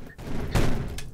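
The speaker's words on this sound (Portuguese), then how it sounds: "Eu nem tô spamando, eu só tô dando um tiro e você morre." A single shotgun blast from the Roblox game Energy Assault, a short heavy boom in the middle of the moment, with a fainter sharp report following.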